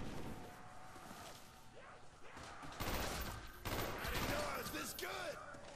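Sustained gunfire at zombies in Call of Duty Black Ops, a continuous rattling volley with zombie groans and game effects layered over it, moderately loud throughout.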